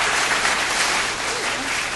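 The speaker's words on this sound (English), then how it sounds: "I call them the delayed claps." Continuous applause from a studio crew on a morning talk show, a dense, steady patter of many hands at constant loudness filling the whole moment without any speech.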